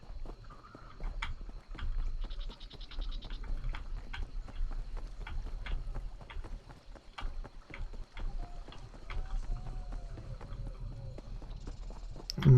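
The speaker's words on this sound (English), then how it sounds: "sprinting, galloping on the horse is faster than just sprinting on my 2 feet." Hoofbeats of a horse galloping in The Elder Scrolls Online, a steady rapid clip-clop running throughout over a low game ambience with faint background music.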